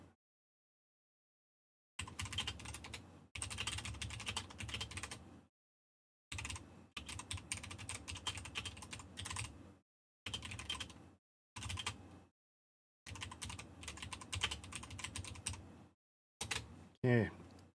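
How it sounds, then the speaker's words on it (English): Typing on a DOS computer keyboard that is producing double strokes, with bursts of fast clicking keystrokes separated by short pauses, close and fairly loud throughout. "This is a DOS keyboard. I should not be getting double strokes after this short time having it."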